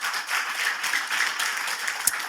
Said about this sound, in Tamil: Give him the best. நல்ல கைகளை தட்டி.